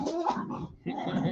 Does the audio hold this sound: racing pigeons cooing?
no